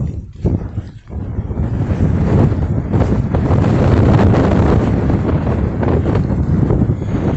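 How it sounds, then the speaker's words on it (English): Wind on an exposed hilltop on Arran, Scotland, roars steadily across the microphone after a brief lull, a loud, continuous low rumble with gusty surges and no talk. "now it's windy because we're right at the top of the hill"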